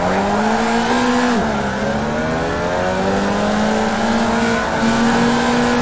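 A race car engine in the iRacing simulator video game, loud and steady, its revs climbing and dipping through gear changes with no talk over it.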